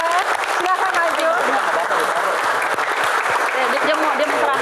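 Steady audience applause fills a stand-up comedy Q&A event, dense and continuous from start to end, with voices talking and laughing over the clapping.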